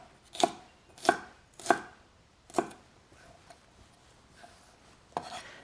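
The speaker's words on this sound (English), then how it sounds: "let's go ahead and finish our cuts here" Knife chopping ingredients on a board for wok fried noodles: four firm, evenly spaced chops up close, then a pause with faint scraping and one more sharp chop near the end.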